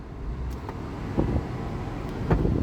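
A 2007 Toyota Highlander with about 258,000 miles out on a test drive, heard as a steady low road rumble from inside the cabin with a few soft bumps and thumps along the way.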